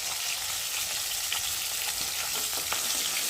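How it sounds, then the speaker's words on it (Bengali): Tilapia fish fry in hot oil with a loud, dense, continuous sizzle close by, with faint spatters and small scrapes now and then. "আর এদিকে মাছ ভাজা হচ্ছে"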